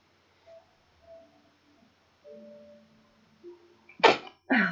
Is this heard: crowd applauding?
no